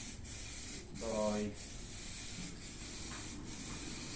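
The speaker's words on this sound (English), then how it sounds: "we're just putting the final coat of clear coat on here" A spray gun lays clear coat on a Land Rover Discovery 2 Td5 bonnet, a steady hiss broken by short pauses between passes, with a brief hum partway through.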